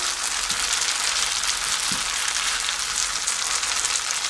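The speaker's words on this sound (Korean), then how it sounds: "역시 기름을 조금 넉넉히 둘러서 자글자글하게 찢어야지 이게" Gochujang pancake batter frying in generous oil in a 22 cm pan, a steady dense crackling sizzle heard up close, with a couple of faint low knocks and no talking.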